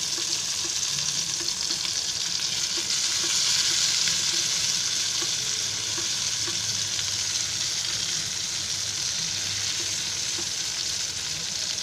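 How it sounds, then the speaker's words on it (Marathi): Stuffed capsicums frying in oil produce a loud, continuous hiss and crackle close by, holding steady for the whole stretch with small pops scattered through it and no voices. "शिमला मिरची मस्त फ्राय झालेली आहे, एकदम कम्प्लीट"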